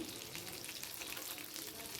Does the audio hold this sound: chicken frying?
yes